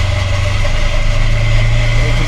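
A tractor with twin wheels front and back running in a field, a steady loud droning engine hum with a low throbbing tone held evenly throughout, no talk.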